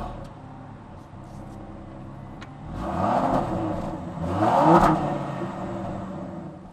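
A Land Rover Defender 90 engine starting and settling into a very quiet, smooth idle, with two soft swells of revving low in level.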